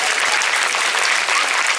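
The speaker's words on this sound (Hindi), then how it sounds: "तालियां उसे बजा दीजिए।" Sustained, dense applause from an audience at a Hindi poetry recital during a kavi sammelan, steady and full throughout with no speech over it.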